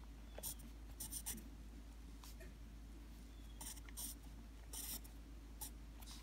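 A pen or pencil writes numbers by hand on paper, making soft, scratchy strokes in short clusters with pauses between them, quiet and close over a low hum.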